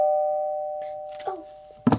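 A single doorbell chime rings out clearly and sustains as a steady tone before fading, with brief muffled movement and voices near the end.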